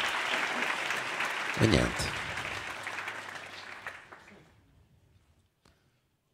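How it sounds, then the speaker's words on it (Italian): Audience applause during a talk show recording, a burst of clapping with a voice speaking over it, tapering off to near silence. "Un applauso addirittura."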